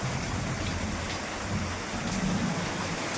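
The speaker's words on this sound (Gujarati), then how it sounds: "પાણી તો પડે જ છે" Steady rain pours down outdoors, a dense continuous hiss of falling drops close by, with no voices.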